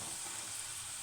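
Curry leaves dropped into hot oil over crisp cashew pakodi with the gas turned off, giving a steady, close sizzling hiss that holds evenly throughout with no talk.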